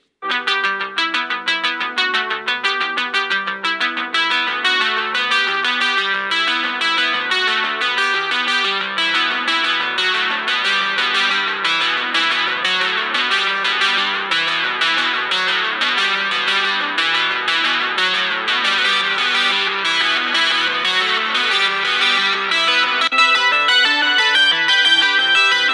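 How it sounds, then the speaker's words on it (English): Sample music plays continuously through the built-in stereo speakers of a Samsung Galaxy A35 5G budget smartphone, a dense, effects-heavy electronic track at steady volume throughout, with no talking over it. "I'm going to have you guys listen to a sample with the stereo speakers."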